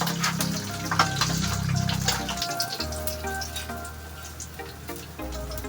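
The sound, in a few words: fish frying in a pan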